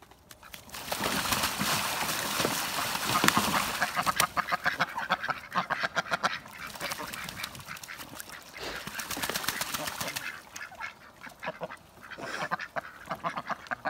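Ducks and geese quack and honk in a busy, continuous chorus, close and fairly loud, with rapid overlapping calls throughout and no talking.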